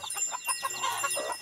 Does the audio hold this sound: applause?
no